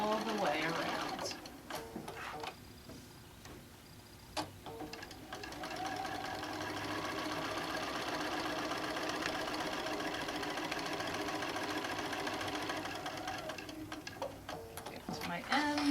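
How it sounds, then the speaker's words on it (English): A sewing machine stitches around the edge of a simple quilt panel with a rod pocket, its rapid mechanical whirring running steadily and close for most of the stretch, with a voice talking over it. "And then I'm going to sew all the way around."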